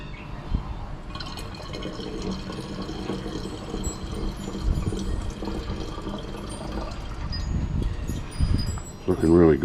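Wash liquid is poured off refined gold recovered from computer scrap, a steady splashing, trickling pour close by that runs throughout and grows briefly louder near the end.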